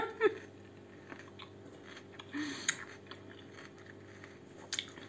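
Crunchy raw salad being chewed close to the microphone in a mukbang, with soft irregular bites, crunches and wet mouth sounds over a quiet background.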